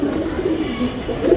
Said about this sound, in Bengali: এই যে আরেকটা লাইনে কবুতর